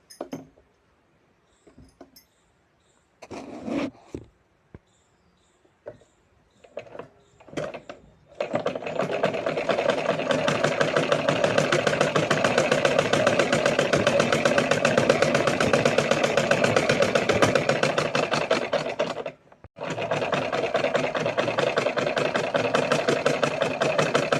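A sewing machine stitches the side seam of a cloth bag made from old fabric. After a few faint clicks and taps, it hums in a long continuous run, stops briefly, then resumes nearby.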